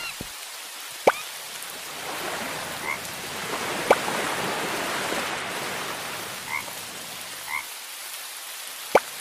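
Steady rain falls in the farming game Harvest Town as a soft, constant hiss, with a few sharp clicks and occasional croaking frogs over it.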